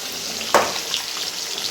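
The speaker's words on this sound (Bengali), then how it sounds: "এখানে মাছ ভাজা করছি" Fish frying in a pan, giving a steady close hiss of sizzling oil broken by one brief clatter.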